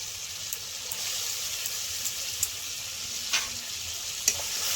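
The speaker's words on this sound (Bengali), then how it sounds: "একটু নেড়ে ফেড়ে নেব। 2 মিনিট মতো এরকম একটু মিশিয়ে নেব।" A Kashmiri-style rohu fish curry with yogurt and cashew paste sizzles steadily in the pan while being stirred, with a few soft clinks and scrapes of the spoon over the constant frying hiss.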